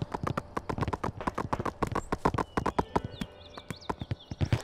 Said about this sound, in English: I hear a horse.